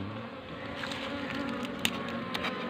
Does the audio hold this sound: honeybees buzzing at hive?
yes